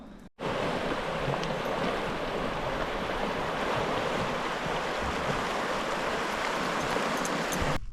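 Strong wind buffeting the microphone over rushing river water on a riverbank, a steady loud wash of noise throughout with no talk.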